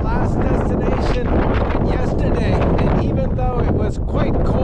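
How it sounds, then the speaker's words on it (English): Strong gusting wind on Signal Hill roars steadily into the microphone, loud and buffeting throughout, with a voice faintly under the rumble. "the wind here is gusting up to 40 or 50 kilometers, almost knocking us off the hill"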